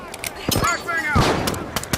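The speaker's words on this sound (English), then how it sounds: "Flashbang out!" A flashbang grenade bursts during a match of the video game The Finals, a sharp, loud blast among several quick gunfire-like cracks, with game voice lines sounding in the background.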